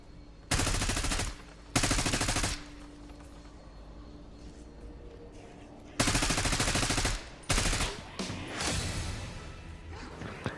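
Automatic gunfire in Black Ops 6 shooting at candle holders inside a church, several loud rapid bursts of a few seconds each separated by quieter game ambience.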